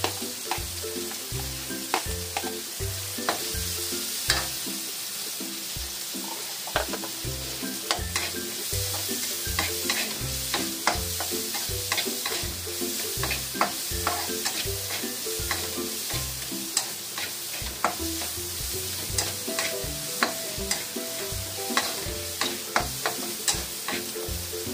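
Garlic fries in a pan under a constant close sizzle, while a utensil stirs and scrapes it in a long, steady run of repeated knocks and scrapes, with no one talking.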